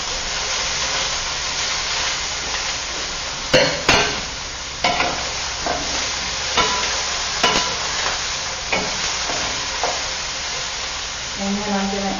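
Broccoli sizzles in a hot pan with steady frying hiss, while a utensil stirs it in repeated scraping strokes every second or so, close and fairly loud.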